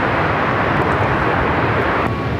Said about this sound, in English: This flight heading to Chicago O'Hare in this A321